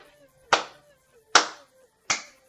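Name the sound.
slow clap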